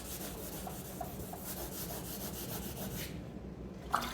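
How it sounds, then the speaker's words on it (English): Wet sandpaper rubs with a soft, steady scratch over the clear coat on a Lexus LS430, in quiet back-and-forth strokes at close range, with one faint tap near the end. "all I'm doing is just sanding that down"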